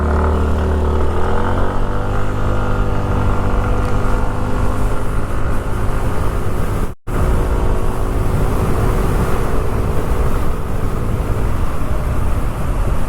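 Yamaha Janus scooters accelerating side by side in a street race through Saigon: a loud, steady engine drone with rising harmonic whine as they pull away, one brief dropout midway, then continued close, sustained running.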